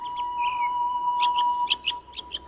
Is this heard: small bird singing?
yes